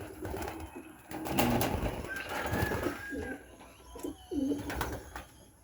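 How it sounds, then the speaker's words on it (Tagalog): Stock pigeons kept as breeders coo in soft, low repeated phrases close by, with a few spaced bursts of cooing over a quiet background. "Ito yung mga ano natin, mga stock bird."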